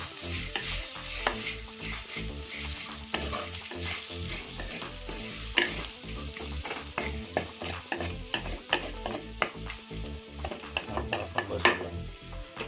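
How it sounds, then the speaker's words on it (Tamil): Steady, crackling sizzle of mudakkathan keerai greens frying in a pan, with stirring scrapes and occasional utensil clinks throughout, no talking. "இந்த கீரையை நல்லா வதக்குங்க அந்த சத்தம் அடங்குனா வந்துருச்சுன்னு அர்த்தம்"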